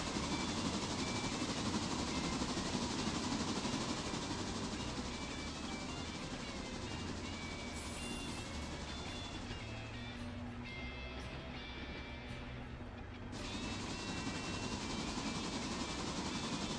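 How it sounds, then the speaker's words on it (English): Lunar Locomotive Works Mikado steam locomotive in a modded Appalachian logging railroad game, running with a steady loud rumble and broadband chuffing that thins briefly midway before returning. "this is a Lunar Locomotive Works Mikado flatbed here"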